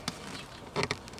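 Honeybees from a queenless colony being shaken onto a hive box, with a soft continuous buzz broken by a few short, sharp bursts of louder buzzing and thumping, close by and with no voices.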